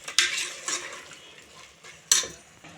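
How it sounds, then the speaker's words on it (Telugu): Homemade country chicken tomato curry is stirred in a pot, with a few sharp metallic scrapes and knocks of a spoon against the pot over a faint wet bubbling, close and irregular. "ఇట్లా ఒక్కసారి మంచిగా కలుపుదాం."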